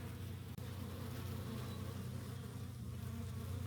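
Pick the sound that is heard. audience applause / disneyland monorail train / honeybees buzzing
honeybees buzzing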